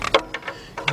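A ratchet is set to loosen and clicks in quick bursts on the catalytic converter bolts of a 2005 Nissan Pathfinder 4.0, driver side, with close, crisp pawl clicks and brief gaps.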